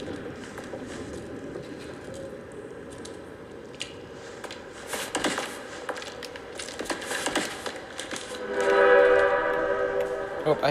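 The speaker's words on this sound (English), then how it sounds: "Oh, I hear a train." A train rumbles past in the video game BATDR, a swelling horn-like tone rising near the end over a murky background, with a voice talking throughout.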